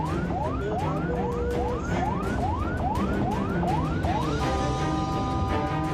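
An ambulance carrying a woman in labour on the Tangerang toll road in Banten sounds its siren, blocked by a luxury car. The siren is loud and close, with rapid rising yelps repeated about twice a second, then shifting to steady sustained tones.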